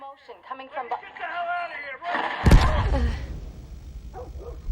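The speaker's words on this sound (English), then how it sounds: "The explosion is right outside the window, down the street." An explosion outside a window down the street in The Last of Us lands as a heavy low boom midway, after a stretch of talking voices and followed by a fading rumble.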